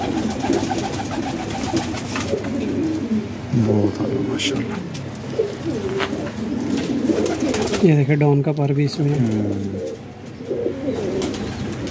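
Pigeons coo repeatedly in a loft, close and clear, their low throaty calls running throughout while someone talks over them.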